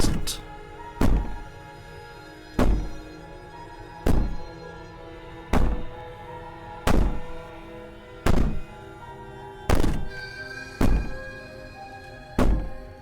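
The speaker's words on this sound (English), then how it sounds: "Maybe the banging and wailing will stop if you just don't pay attention to it." Heavy banging from the princess in the video game Slay the Princess, about ten loud thuds at irregular intervals of roughly a second, each ringing briefly; no clear wailing.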